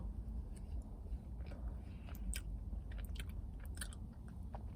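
Someone eats Oreo cheesecake from The Cheesecake Factory close to the microphone, with soft repeated chewing and moist squishy bites and a few faint crunchy clicks from the cookie pieces.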